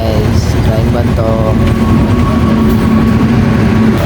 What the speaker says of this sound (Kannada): ರೈಲ್ ಬಂತು ನೋಡ್ರಿ, ಬಂತು ಟ್ರೈನು ನೋಡಿ ಗೈಸ್, ಟ್ರೈನ್ ಬಂತು